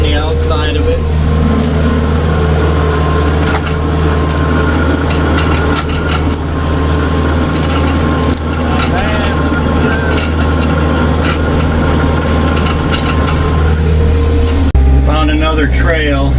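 A tractor engine drones steadily at close range while grading a rutted trail with a back blade, a constant low rumble with faint rattles over it.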